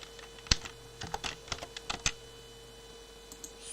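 Keys on a computer keyboard are tapped in a short, uneven burst of about eight clicks, faint and close against a low steady hum.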